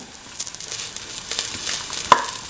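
Onion and shallot pieces dropped into a hot pan with fenugreek seeds, setting off a quick burst of close, crackling sizzle and a stirring scrape, with a sharp spatter of oil just before the end.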